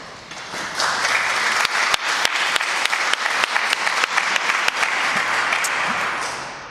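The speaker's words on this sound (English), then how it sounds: "Never clap before you've heard the speech" Sustained applause from a ceremony audience at a European Youth Card anniversary event, dense and steady for several seconds with sharp individual claps standing out, then tapering slightly at the end.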